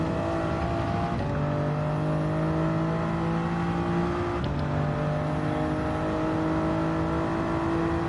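Toyota Supra in Gran Turismo 7 holding a steady, droning engine note, with two quick shifts where the pitch drops and climbs again, loud and alone with no voices.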